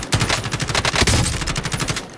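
Rapid automatic gunfire rattles through a Warzone battle royale match, dense repeated bursts of shots at close range with no talking.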